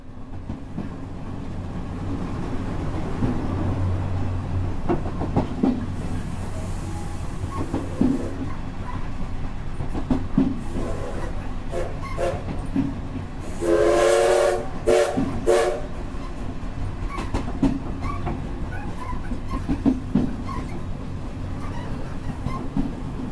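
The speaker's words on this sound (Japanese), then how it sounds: "これもね同じく汽笛なんですけれども" A steam locomotive whistle blows once in a short, bright blast amid the chugging and rattling of the SL Taiju steam train, heard at a moderate distance.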